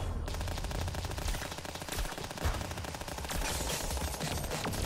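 A Rapid Zeph Pistol fires nonstop in the Starward Rogue video game, a dense, unbroken stream of quick shots under a busy game soundscape, loud and even from start to finish.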